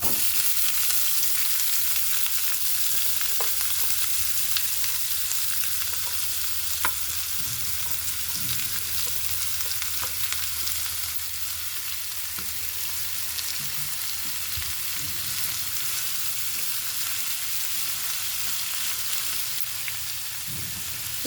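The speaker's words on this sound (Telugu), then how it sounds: "కరివేపాకు కూడా వేసాను. ఉల్లిపాయ ముక్కలు వేస్తున్నానండి." Onion pieces and curry leaves frying in hot oil for a curry, a steady bright sizzle that stays even throughout with occasional stirring clicks and no talking.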